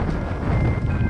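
Low, steady roaring wind buffets the microphone during an overcast mixed-terrain bike ride, loud and continuous with no talk.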